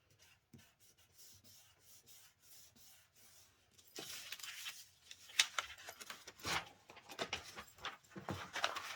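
A glued paper page in a Little Golden Book journal being smoothed down by hand, soft dry rubbing and brushing strokes that start faint and grow louder and busier in the second half.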